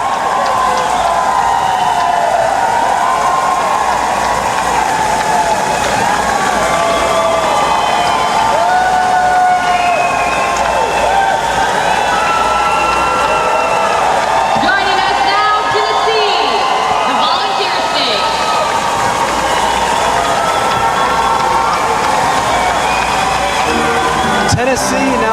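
A large arena crowd at the opening ceremonies of the 2009 National Veterans Wheelchair Games in Spokane cheers and shouts steadily through the parade of athletes, a dense, loud roar of voices with whoops rising throughout.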